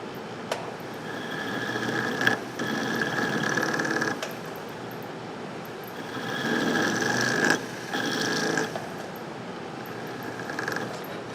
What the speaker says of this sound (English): with my motor going, just apply a little bit of pressure to create a countersink there